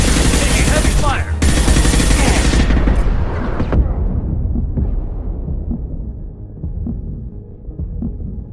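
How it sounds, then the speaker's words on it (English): Heavy gunfire in Mass Effect Legendary Edition 2, a loud, dense wall of shooting and blasts for the first few seconds that drops off into lower rumbling combat noise and scattered impacts. "Heavy fire."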